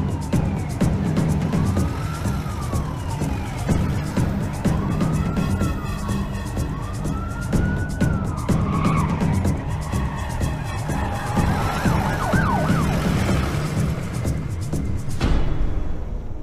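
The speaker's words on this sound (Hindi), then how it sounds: "सर गगन जिस एम्बुलेंस में है वो निमहंस की जगह दूसरी साइड से जा रही है।" An ambulance siren in a Hindi-dubbed action film wails in repeated rising and falling sweeps over a loud, dense background of engine rumble and score, continuous for most of the clip before cutting off near the end.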